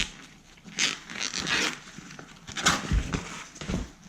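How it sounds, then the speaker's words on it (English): A zipper on an Up and Down wedge cushion cover is pulled around and opened in bursts of rasping, close-up zipping, with short pauses and handling noise between strokes. "Pull it up all the way around, then unzip the rest of it"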